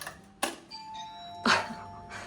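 A loud two-tone electronic chime from a hotel room door's key card lock in China rings out, followed by a sustained beep tone and another chime, with no talking.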